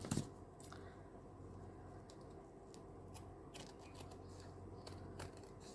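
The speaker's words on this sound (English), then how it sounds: "I have to tilt my scissors a little bit and be very mindful of the fact that I don't trim off the paper itself" Scissors trim the paper edges of a stitched handmade Christmas junk journal, giving soft, close, intermittent snips and crisp cutting clicks spaced irregularly over a quiet room background with no talking.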